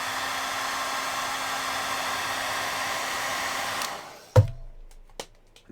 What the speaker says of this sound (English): Let's just give that a little hairdryer.